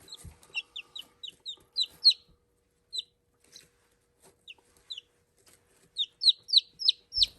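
Brown Pit Bantam chickens cluck and chirp in quick high-pitched runs, close and clear, with short pauses between bursts against a quiet background.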